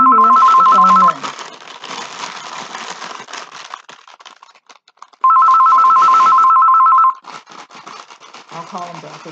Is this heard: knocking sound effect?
no